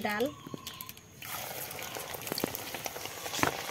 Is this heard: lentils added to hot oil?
yes